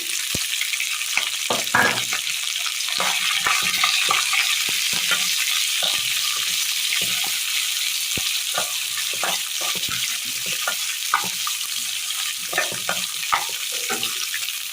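Green chili, onion and carrot stir-fried in a pan for a Kerala curry, a steady close sizzle with repeated scraping and tapping from the spoon turning the vegetables.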